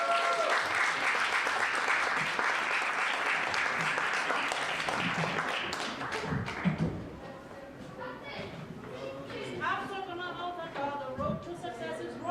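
Audience clapping for a performer at a library poetry slam, sustained and fairly loud at first, then thinning out as a voice begins talking over the tail of the applause.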